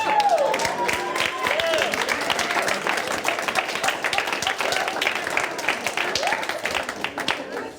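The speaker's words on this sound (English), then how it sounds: "Give her a round of applause." Scattered applause from a small audience at a mentalist's show, moderately loud, with a person talking over the clapping.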